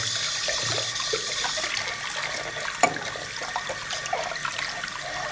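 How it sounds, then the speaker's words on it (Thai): A drinking glass bearing a UV DTF printed label is washed inside and out under a running tap: steady, fairly loud water rush with a single brief knock partway through. "ใส่น้ำล้างเลยนะครับ ล้างข้างในล้างข้างนอก"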